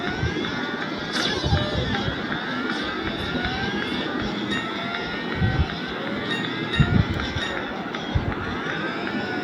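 Race car engines roar steadily in a racing video game, a dense droning mix with shifting engine whines and occasional louder surges, continuous throughout with no one talking.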